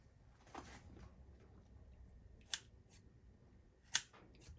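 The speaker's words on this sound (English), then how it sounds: "Nothing like some good old sharp scissors." Sharp scissors snip through canned pears, giving two crisp, close snips a little over a second apart against a quiet background with faint kitchen rustling.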